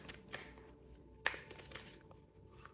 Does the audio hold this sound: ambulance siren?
no